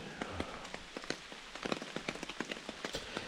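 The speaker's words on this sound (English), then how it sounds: "Well, it's raining." Raindrops strike a tarp shelter at night on the Long Trail, a quiet background hiss broken by many sharp, irregular taps and pops close by.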